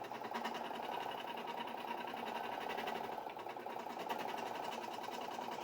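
A sewing machine runs steadily, stitching a double reinforcing seam to close a plush baby rattle toy, a continuous rapid mechanical whir at close range.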